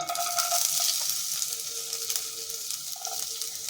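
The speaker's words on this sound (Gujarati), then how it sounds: "તો હવે આપણે સૌથી પહેલાં એની અંદર 2 ચમચી જેટલા ઝીણા સમારેલા આદુના ટુકડા ઉમેરીશું" Two spoonfuls of finely chopped ginger hit hot oil for hot and sour veg soup, making a loud, steady, crackling sizzle with stirring scrapes, close up throughout and with no talk.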